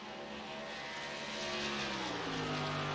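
Chevy K&N race car number 41 at Texas accelerates up to speed, a faint distant engine tone climbing steadily in pitch over trackside wind and hiss.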